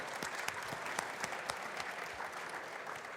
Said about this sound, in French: c'est toujours agréable au moins de tous vous applaudir